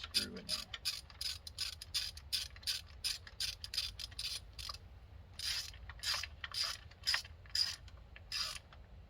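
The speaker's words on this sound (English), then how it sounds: "Get the screw in there." A screw being driven in with repeated ratcheting turns while a Hella high/low tone twin horn is installed on a Triumph Street Triple, a steady run of close, rhythmic mechanical clicks with short pauses between strokes.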